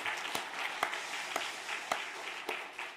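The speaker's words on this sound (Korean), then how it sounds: "감사의 박수로 한번 격려하겠습니다" Applause from a church congregation at a New Year special dawn revival service, a steady wash of clapping with a few sharper individual claps standing out, moderately quiet and even throughout.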